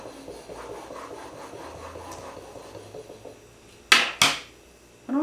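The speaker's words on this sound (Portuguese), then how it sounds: "E nós vamos cortar a massa com um nivelador." A cake leveler saws through a cake sponge with a soft, steady rasping drawn back and forth for several seconds, followed by two sharper scraping strokes near the end.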